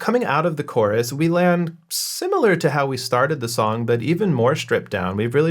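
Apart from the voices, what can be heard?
No everyday noise stands out behind the speech.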